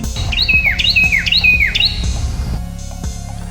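A hungry pet bird in a cartoon chirps in a run of bright, rising and falling tweets repeated several times, loud and close, before quieter cartoon sounds take over.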